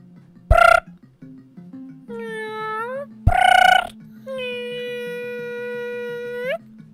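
A voice imitates the Super Mario World yellow box going down, with two short burp-like blasts each followed by a sliding tonal whine, over quiet game music.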